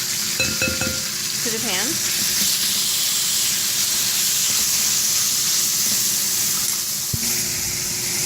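Beef added to a hot, oiled pan for an oriental steak stir fry sets off a loud, steady sizzle that hisses continuously, with a brief spoken phrase at the start.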